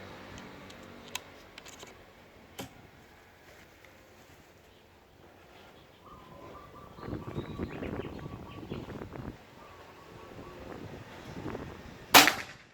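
A PCP Bocap Pajero full CNC Gen 5 air rifle fires a single sharp, loud crack near the end, after a mostly quiet stretch with a few small clicks.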